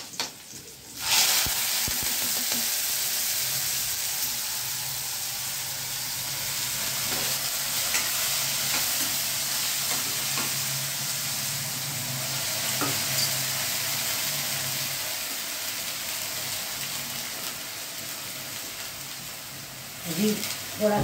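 Garlic fries in a hot pan alongside cumin for a Gujarati ridge gourd curry, giving a steady, close hiss and sizzle with occasional light stirring clicks, lasting throughout without a break.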